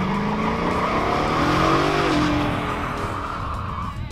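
A 1968 Plymouth Road Runner hardtop with a 426 Hemi and 15-inch red stripe bias ply tires does a burnout. A loud, continuous engine roar runs under a sustained tire squeal, with no one talking.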